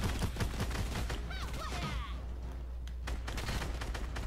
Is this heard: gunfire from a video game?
yes